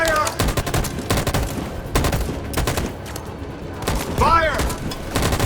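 Gunfire in the video game Detroit: Become Human, repeated rapid bursts of shots crackling in dense volleys over several seconds, loud and close, with a voice shouting over the firing.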